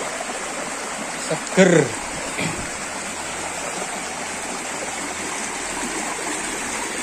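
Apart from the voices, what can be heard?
babbling water of a stream in the forest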